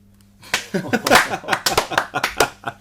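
A small group claps in a quick burst of sharp, uneven slaps mixed with chuckles and voices, fairly close and lively for a few seconds.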